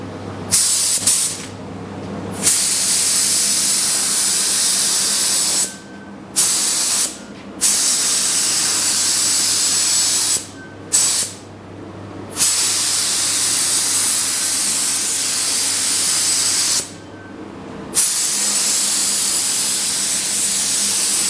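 A spray gun lays epoxy primer onto GTO car doors and fenders in long, steady hissing passes broken by short pauses, loud and close throughout with no voices.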